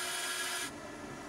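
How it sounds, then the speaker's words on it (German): A power tool steadily drills small round test samples out of sneaker material, producing a quiet, even grinding hiss that drops in tone partway through. "bohrt kleine runde Stücke für den Test aus und legt sie in die Maschine für den Abriebtest ein"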